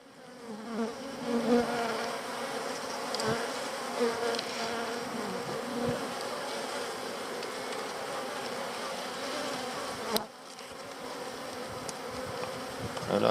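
A dense swarm of honeybees buzzing steadily in an opened, disordered beehive, a continuous close droning hum with individual bees passing near, and a brief knock partway through.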